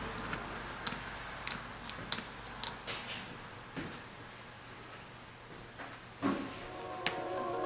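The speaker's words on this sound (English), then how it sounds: "with your scissors, using the comb as your guide." Scissors snip through hair during a salon haircut guided by a comb, quiet sharp clicks arriving in irregular bursts over a soft hiss, no talking.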